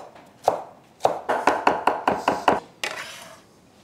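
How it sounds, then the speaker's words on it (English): A knife finely minces flat leaf Italian parsley on a cutting board: one knock, then a quick steady run of about seven crisp chops, and a final softer stroke, close and clear with no talking. "I need to finely mince the parsley"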